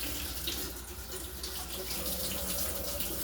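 Cold water from a tap runs over the bottom of a Jetboil stove pot, making a steady close splashing hiss with no pauses.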